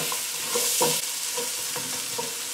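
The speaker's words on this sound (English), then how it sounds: "just going to sweat these onions down now for 2 or 3 minutes" Onions sweat in a pan over low heat, a soft continuous sizzle broken by several spoon stirs and scrapes, close but fairly quiet, with no voices.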